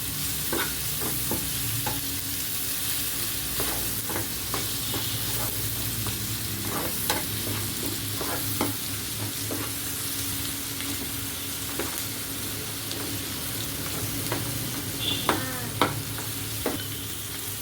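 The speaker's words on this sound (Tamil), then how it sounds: "ஒரு 5 மினிட்ஸ் கிட்ட எல்லாமே நல்லா சேர்ந்து வதங்கணும்." Bread masala ingredients sauté in a pan, with a steady close sizzle broken by repeated spatula scrapes and taps against the pan, no voices.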